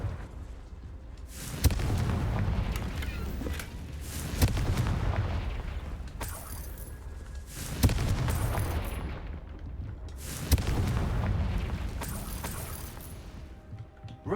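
Fiery Confringo spell blasts from Hogwarts Legacy land in four heavy, booming explosions, each with a sharp crack and a long rumbling tail. They come at an even pace a few seconds apart, with no talk over them.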